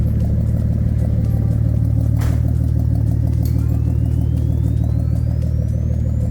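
A Datsun 280ZX Turbo with a 3-inch exhaust idles on a cold start. A loud, steady low rumble fills the whole stretch, with a brief higher flare partway through.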